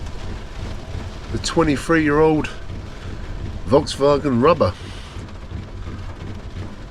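Wind and rain batter a 23-year-old Volkswagen van parked for wild camping in a Lake District mountain storm, a steady broadband roar throughout with someone talking over it.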